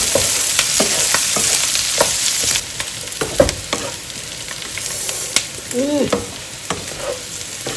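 Potato curry sizzles and crackles as it is stir-fried in a pan, with sharp scraping strokes of a spatula scattered throughout and a brief bubbling near the end.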